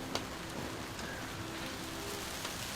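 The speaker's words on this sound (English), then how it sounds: "It started up so good and now it's just pouring down again." Heavy rain pours down steadily outside by a sailboat frozen at the dock, a dense hiss of drops with a few sharper drips and taps over it.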